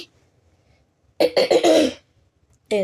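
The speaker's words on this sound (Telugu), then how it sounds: "నాకు దగ్గుంది, సారీ" A short burst of several rough coughs in quick succession, close up, followed after a pause by another brief cough.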